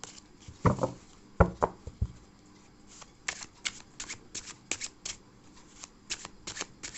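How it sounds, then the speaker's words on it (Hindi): Tarot cards are shuffled by hand close up in crisp riffling bursts, a few louder flaps at first, then quick irregular pattering runs with short pauses between. "पहले मैं सारे कार्ड्स ले लेती हूँ फिर बताती हूँ।"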